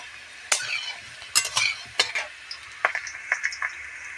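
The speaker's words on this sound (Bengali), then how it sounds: "আলুটা একটু লাল লাল করে ভেজে নেব।" Potatoes fry in a pan over a wood-fired stove, with a light sizzle broken by repeated scraping and clinking of a stirring utensil, close and irregular.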